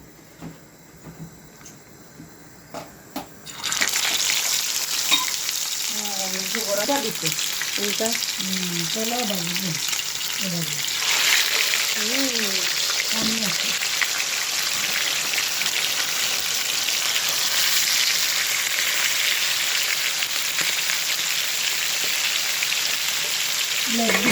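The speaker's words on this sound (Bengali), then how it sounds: "আমি এদিকে চিকেনটারে রোস্টের চিকেনটারে ফ্রাই করা বয়মু এখন।" Chicken marinated with ginger, garlic and a little turmeric hits hot oil for a roast, bursting into a loud, steady sizzle after a few seconds of quiet clatter, with a voice talking briefly under the frying.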